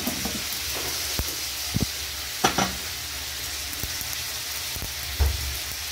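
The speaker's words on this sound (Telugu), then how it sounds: "ఇంట్లో కొంచెం కరివేపాకు కూడా వేసుకుందాం. ఇట్లా చిట్టుపట్లాడాక" Curry leaves splutter in hot oil for a chicken avakai pickle, a steady sizzle broken by sharp crackling pops at irregular moments, close and fairly loud, with no talking.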